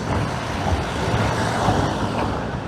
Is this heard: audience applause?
no